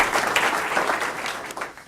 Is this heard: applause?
yes